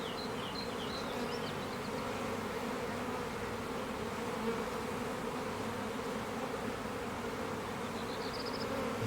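A honeybee colony hums steadily from an opened hive during an Italian beekeeping inspection, a dense, continuous buzz with occasional individual bees passing close by, no voices.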